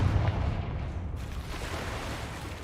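A Confringo spell blast in a wizard video game: a heavy, rumbling explosive burst that opens loudly, then settles into a sustained broadband roar lasting a couple of seconds with no voices over it.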